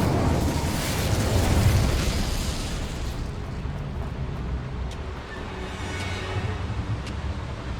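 An Incendio fire spell in Hogwarts Legacy bursts in a loud whooshing blast of flame that swells, then fades into a crackling, rumbling tail.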